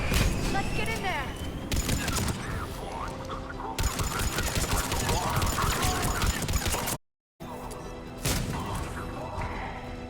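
Gunfire at a Cerberus checkpoint in Mass Effect 3, with dense crackling shots, crashes and impacts running almost continuously, a brief silent gap near the end, and voices speaking over the fighting.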